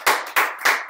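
Crisp handclaps repeat in a steady rhythm, about three sharp bursts in a second, close and clear with almost nothing else underneath.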